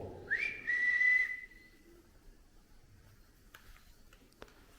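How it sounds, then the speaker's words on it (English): A thin, high nasal whistle from someone breathing in through the nose rises briefly and fades over a quiet background, followed by a few soft clicks. "I had a little whistle noise then, but I think it was my nose when I breathed in"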